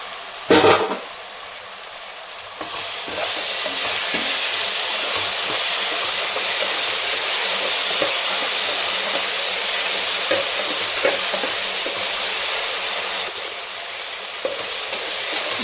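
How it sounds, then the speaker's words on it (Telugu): Baby corn frying in a pan of hot oil for fried rice: a brief clatter as it goes in, then a loud, dense, continuous sizzle that holds steady up close. "ఇలా వేగిపోయినాక ఇంక బేబీ కార్న్ వేసేసేద్దామండి"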